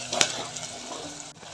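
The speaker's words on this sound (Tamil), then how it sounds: "நல்லா வதங்கட்டும்." Ten cloves of garlic and tomato sautéing in a pan for fish gravy, heard as a steady close sizzle with a single sharp clink of a utensil near the start.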